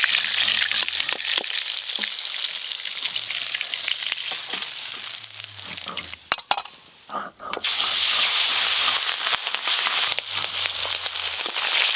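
Hilsa fish pieces sizzling in hot oil in a pan, a loud continuous frying hiss with scraping and clinks of a utensil turning them, briefly dropping quieter midway before the sizzle resumes.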